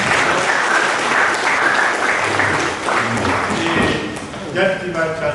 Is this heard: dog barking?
no